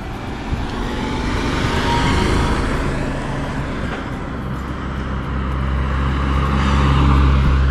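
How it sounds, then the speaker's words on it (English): Cars sweep past one after another on a highway in Haines, Alaska, a continuous roadway rush with tire hiss that swells and fades, heard up close from the roadside with no talking. "Let these cars go by."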